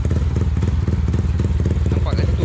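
A Yamaha Y15 or similar small two-stroke motorcycle engine runs close by while being tuned before a ride, a steady pulsing idle with light clatter and brief revs, with people talking over it.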